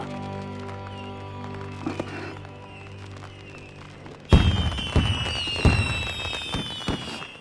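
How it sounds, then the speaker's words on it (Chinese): Fireworks bursting over an amusement park at night, a sudden loud crackling onset midway with several sharp booms and sizzling trails after a quieter stretch of tonal music. "烟花好漂亮啊！"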